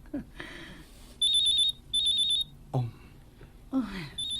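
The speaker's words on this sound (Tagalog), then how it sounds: "imong cellphone on ni ring" A cellphone rings in short repeated electronic trill bursts, two clear rings in the middle, amid indoor sounds and brief voices before and after.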